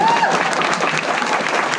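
Audience clapping at a business talk on Amway success, a dense, steady burst of applause filling the short moment with some voices mixed in.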